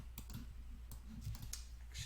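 Someone types on a computer keyboard while filling in a form, giving quiet, uneven clicks and taps in loose bursts over a low background hum.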